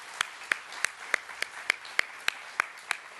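Sparse, evenly spaced claps from an audience at a plant launch, about ten sharp hand claps in a steady rhythm over a low room hum, moderately close and fairly quiet, with no talking.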